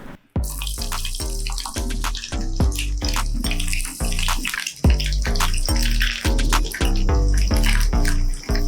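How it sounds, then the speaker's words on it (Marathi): Balls of batter sizzling as they drop into hot oil in a frying pan, a steady loud crackle broken by sharp spits and pops, with no talk. "इकडे मी फ्राय पॅन मध्ये तेल गरम करायला ठेवलंय आता तेल हे गरम झालंय आता त्यामध्ये आपण एक एक असा गोळा करून त्यामध्ये सोडूया"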